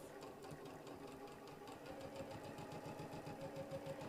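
A sewing machine stitching a heart quilt block with a small stitch length, a steady fast mechanical whirr with rapid regular needle pulses, faint and continuous without talk.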